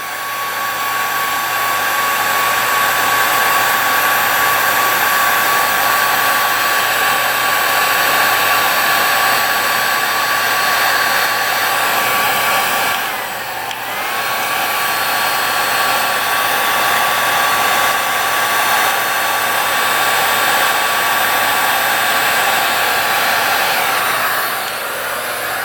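A heat gun shrinks weatherproof solder-seal connectors onto the ignition wiring of a one-year-only Harley-Davidson motorcycle, giving a steady, loud, close blowing whir that dips briefly partway through, with no talking.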